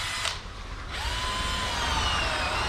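A power drill bores holes in wood while building jack stands, a loud close whine that briefly drops off, then spins up again and runs steadily.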